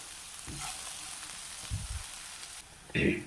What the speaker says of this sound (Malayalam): ഇനി ഇതൊന്നും നമുക്ക് വഴന്ന് കിട്ടണേ ഉള്ളി വഴരാൻ വേഗമാകും